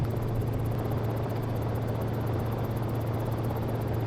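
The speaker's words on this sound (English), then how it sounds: "what a lovely, stable, easy to fly helicopter, straight out the box" Continuous engine drone of a Cicare-8 helicopter in the X-Plane flight simulator, with a fast rotor throb, steady and loud throughout, with no voices.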